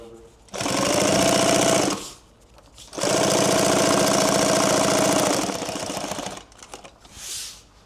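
Sewing machine stitching X-Pack fabric for a duffle in two loud, close bursts of rapid needle chatter, about one and then two and a half seconds long, separated by a short pause, with quieter handling noise between.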